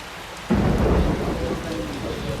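Heavy rain pours down steadily, and a sudden burst of thunder rumbles in partway through, loud and close, then fades back into the hiss of the rain.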